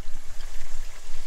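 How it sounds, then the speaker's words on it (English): Vegan duck pieces bubble and sizzle in hot oil in a chip pan, a loud, close, continuous frothy crackle with a low rumbling churn. "It's just going to sit there bubbling away for a bit until they're all brown and crispy."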